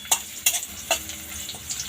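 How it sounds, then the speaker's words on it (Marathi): Finely chopped onion sizzles in oil in a hot kadai, a steady frying hiss broken by several sharp scraping clicks as a spoon stirs it, close and clear with no talk. "यामध्ये आता बारीक चिरलेला कांदा टाकून घेऊ कांदा जरा थोडा ब्राऊन होसपर्यंत तो फ्राय करून घ्यायचा आहे"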